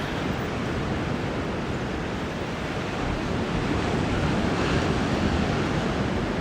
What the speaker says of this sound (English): Can you hear the surf sound now?